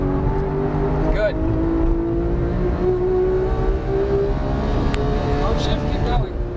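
Porsche 991 GT3 engine pulling hard on a race track at Auto Club, a steady loud drone with rising harmonic tone as the throttle is squeezed, wind and road noise underneath and a voice talking over it.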